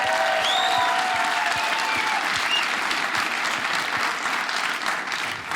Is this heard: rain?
no